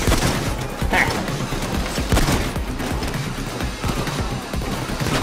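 Dense gunfire in the video game Payday 2, rapid overlapping shots and impacts in a loud, continuous barrage throughout.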